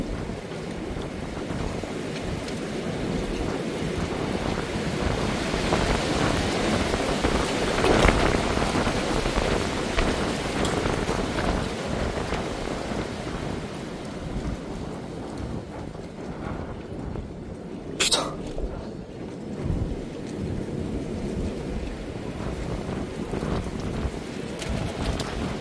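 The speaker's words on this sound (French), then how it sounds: "Rafale à droite, rafale à gauche, oh c'est un mélange." Gusting wind in a sandstorm: a continuous, loud, rushing roar buffeting the microphone, swelling and easing in waves, with a sharp crackling burst partway through.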